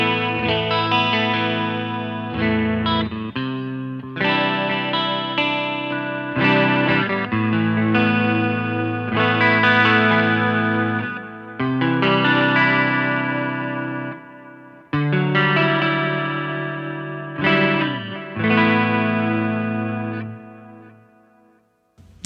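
A clean-toned electric guitar plays chords and melodic lines through a Line 6 POD Express with tape delay and a touch of low reverb, with echoing repeats trailing each phrase, steady and fairly loud with no talking.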